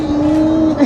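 Scion car passing an eBike during a roadside race, a short steady engine drone with a strong tone, loud and close, lasting under a second.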